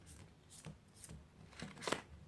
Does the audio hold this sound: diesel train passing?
no